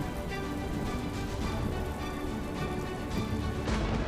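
Heavy monsoon downpour over South Gujarat towns like Surat, Navsari and Bharuch, a dense, steady roar of rain hitting surfaces, loud and continuous without pause.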